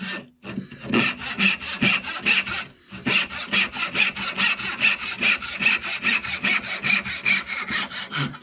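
A hand saw cuts a wood tenon in steady back-and-forth rasping strokes, close and loud, with one brief pause partway through and no talking.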